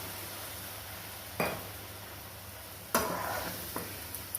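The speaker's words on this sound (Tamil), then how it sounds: "நல்லா கொதிக்கட்டும்." Chicken gravy for Tirunelveli-style dragon chicken simmering in a pan after water is added, a faint steady bubbling sizzle with a couple of sharp stirring or utensil clinks partway through, no talking.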